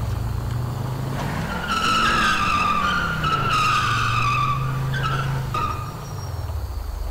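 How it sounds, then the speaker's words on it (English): Car in GTA V drifting and skidding hard around a corner, with loud sustained tire squeal over a steady engine drone, rising and falling for several seconds before easing off. "I'm still gonna drift it though, straight into a car."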